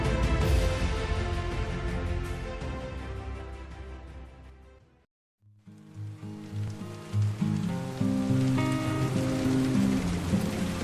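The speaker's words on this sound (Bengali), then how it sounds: "অন্ধকার আকাশে গড়গড় করে মেঘ ডাকছে বৃষ্টি কখনো মুসলধারে ঝুপঝুপ করে" Steady rain patters and splashes on a surface, briefly dropping out before resuming, with low rumbling thunder mixed in beneath the downpour.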